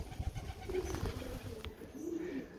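Rooftop pigeons, including white and blue homing pigeons, coo softly in low, rolling calls at a distance, with faint rustling and ambient noise around them.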